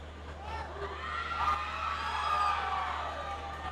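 Football stadium crowd at a SEA Games women's match against the Philippines, swelling into a brief excited cheer with shouts and whoops, heard at a distance over steady crowd murmur.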